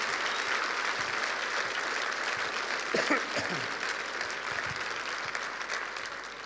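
Applause from a church congregation fills the whole stretch, a steady dense patter of many hands clapping at moderate distance, with a few brief voices rising over it.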